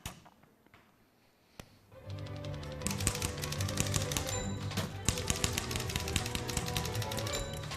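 Fast typewriter typing starts after a quiet opening and a single sharp thump, becoming a dense, rapid clatter of key strikes with occasional louder clacks, close and continuous over backing music.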